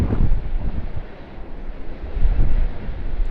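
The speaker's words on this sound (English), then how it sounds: "Definitely some gusty wind as well." Gusty wind buffets a microphone outdoors at Sydney Airport, a steady low rumble swelling and easing in gusts over a few seconds, loud and close with no voices.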